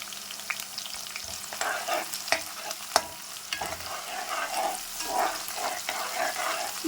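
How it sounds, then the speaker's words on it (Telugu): Onions fry in a pan for a sea fish curry, giving a close, steady sizzle broken by clattering stirs and scrapes of a spoon against the pan. No one speaks. "ఓకే, ఆనియన్స్ అయితే మనకి చక్కగా ఫ్రై అవ్వాలండి"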